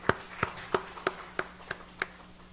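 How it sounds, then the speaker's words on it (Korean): Slow, evenly spaced hand claps in a church, about seven sharp beats roughly a third of a second apart, sounding like a few people clapping close by rather than a full congregation. "박수로 한번 축하합시다"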